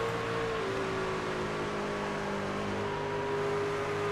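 A racing truck engine at Pocono Raceway holds a loud, sustained drone at steady revs, with a pitch that shifts slightly partway through, heard continuously without any voices.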